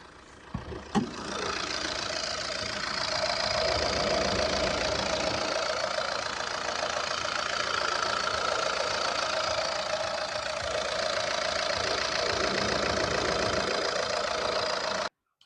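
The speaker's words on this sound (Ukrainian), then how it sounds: "Послухайте цей двигатель." A 2010 Opel Insignia's 2.0 diesel engine idles steadily with a low rumble and faint knocking texture, close by and unchanging for the whole stretch, after a brief clunk at the start.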